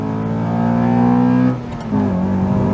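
Honda Accord Type S CL9 with a K24 engine revs up hard close by, then the pitch drops and it climbs again after a gear change.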